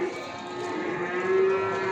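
A calf, one of two small heifers at a livestock market in Beyləqan, gives one long, loud, sustained moo close by, steady in pitch with no talk over it.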